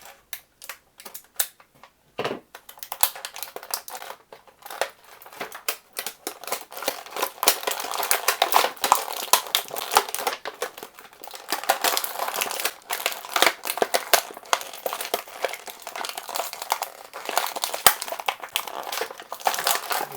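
Plastic blister packaging for a DC Multiverse 6-inch action figure crinkles and crackles continuously as the figure is freed, dense rustling snaps close up and fairly loud, with no talking.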